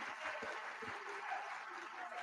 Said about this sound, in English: let me invite all of us in the National Assembly to applaud